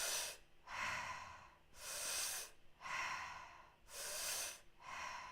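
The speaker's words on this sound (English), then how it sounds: "I get a fuller breath with the mouth breathing by kind of sipping it like as if through a straw." A person breathes through the mouth during a Wim Hof–style breathwork exercise, sipping air in as if through a straw, with four or five long, close, airy breaths in a slow, even rhythm and no talking.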